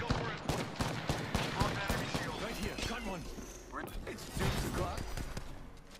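Video game firefight with rapid bursts of gunfire and sharp repeated shots, fairly quiet overall, mixed with a player's voice talking over the action.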